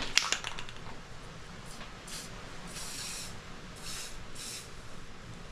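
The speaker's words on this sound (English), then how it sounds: "I'm gonna spray a little of that, put some vinegar." A spray bottle of vinegar fires several short hissing squirts, a few quick bursts near the start and then spaced sprays later, close by and fairly soft with no voices present.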